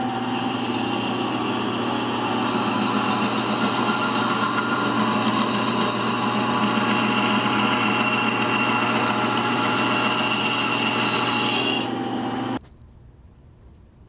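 A bandsaw cuts out a shelf template during a rocket stove build, with a loud, continuous motor whine and hum running steadily before stopping abruptly near the end.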